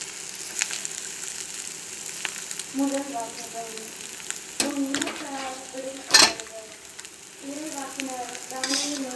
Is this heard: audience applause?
no